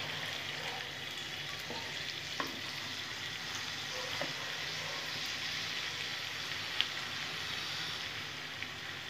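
Water hits a hot pan of frying foloi fish curry, raising a steady, close, dense sizzle and bubbling hiss that holds throughout with a few faint clicks.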